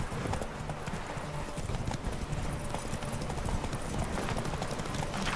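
Horse hooves galloping in The Witcher 3, a steady rapid clip-clop rhythm at moderate volume with a brief snort or whinny, playing without speech.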